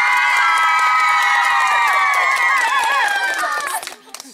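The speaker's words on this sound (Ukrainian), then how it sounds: "Ваші оплески для Анжеліки!" A village-square crowd at an outdoor karaoke contest cheers and shouts loudly for a singer, a dense sustained wave of voices and whoops that fades near the end, with no clear clapping standing out.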